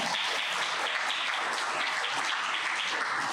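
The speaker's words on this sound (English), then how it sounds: "claps for them" A science cafe audience claps for the event videographer and check-in helper, a dense, even round of applause from a room of people lasting a few seconds, with no talking.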